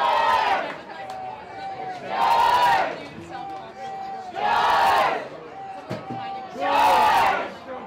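A crowd at an ultimate frisbee game roars in loud rhythmic bursts, swelling and fading about four times, with a muffled hum between the chants.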